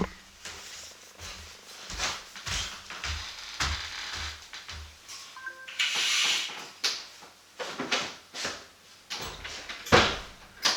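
A balcony door being closed indoors, with scattered knocks, rattles and a sliding scrape among intermittent handling noises, moderately close and without speech.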